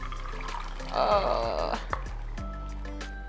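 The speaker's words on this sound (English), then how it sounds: "I'm also going to add in 2 cups of water. Add in our beans." A short gush of water and beans tips into a cooking pan for charro beans, a brief splashing pour midway, with a voice briefly exclaiming and faint kitchen clatter.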